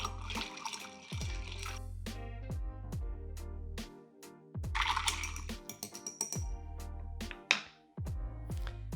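Ice clinks and rattles against a cocktail mixing glass in a repeated stirring rhythm, close and clear, with faint watery sloshing.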